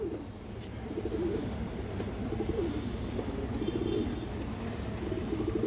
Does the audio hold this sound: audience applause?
no